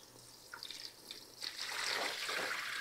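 Cold tap water runs into a container in a kitchen sink, a soft trickle that swells into a steady, louder splashing flow, fairly close and with no talking.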